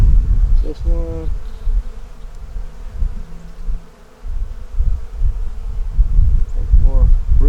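Honeybees buzz steadily around a brood frame in an open hive, a close, continuous drone that swells and dips, with faint rustling and handling noises underneath.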